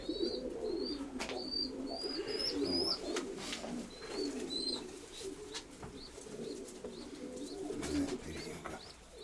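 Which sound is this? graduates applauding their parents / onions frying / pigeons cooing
pigeons cooing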